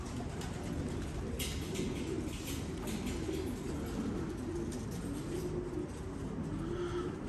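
Pigeons cooing in a racing-pigeon loft, a steady low murmur of soft coos from several birds close by, continuous throughout with no talk.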